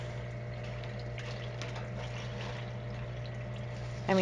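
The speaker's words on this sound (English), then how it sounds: "we have more water agitation." Soft, continuous bubbling and trickling water from an indoor aquaponics tank pump under a steady low hum, ending in a brief louder rush.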